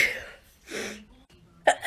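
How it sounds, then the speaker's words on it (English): An allergy sufferer lets out a couple of short sneezes with breathy intakes between them, close and abrupt, ending in a sharp final burst. "So many sneezes."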